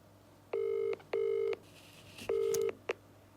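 A telephone call being dialed: three long keypad tones and one short tone sound close and clear over a low steady hum, with no talk.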